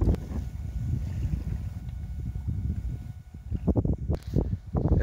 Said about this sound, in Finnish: Tää tuulee jonkun verran ja kyllä tää tuuli jonkun verran ottaa tähän backraftiin.